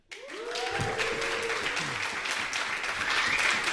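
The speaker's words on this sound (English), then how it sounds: "That's like 3 rounds of applause before we even started." An audience at a live podcast recording breaks into steady, close applause that keeps going throughout, with a brief voice heard just as the clapping begins.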